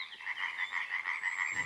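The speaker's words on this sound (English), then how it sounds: "comes the croaking of thousands of tree frogs, ready for a new breeding season" Many tree frogs croak together at night in their breeding season, a dense, continuous chorus of pulsing calls, loud and close.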